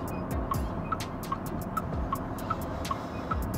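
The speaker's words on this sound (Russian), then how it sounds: "Я, типа, на этот поворотник нажимаю." A Geely Jiyue Robo-01 turn signal ticks steadily, about two clicks per second, crisp and close inside the cabin over a constant low road and car hum while driving.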